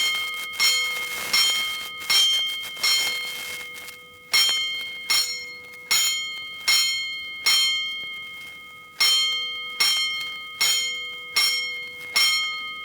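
A fire station's alarm bell strikes repeatedly in a regular sequence, each loud metallic clang ringing out and decaying before the next. A brief pause breaks the strikes into groups, and no voices are heard.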